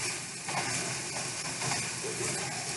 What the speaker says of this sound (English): we're just going to break up the meat as it browns